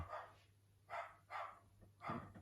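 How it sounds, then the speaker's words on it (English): A Jack Russell terrier barks four times outdoors in an uneven rhythm, heard at a distance and fairly faint, with no one talking over it. "The dog is barking for no other reason than"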